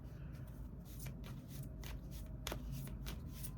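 Tarot cards being shuffled close up, a soft repeated riffling and sliding of card stock with a few sharper snaps, quiet and steady with no talking.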